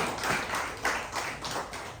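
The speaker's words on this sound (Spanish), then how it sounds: "Denle fuerte palmas a la palabra del Señor en esta mañana" A church congregation clapping in praise, a faint, steady run of hand claps that swell and fade in rhythmic waves, heard from a distance.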